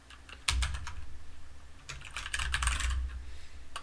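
Keys clatter in quick irregular bursts as text is typed on a computer keyboard, close and clear, with a brief pause before a second, denser flurry of keystrokes.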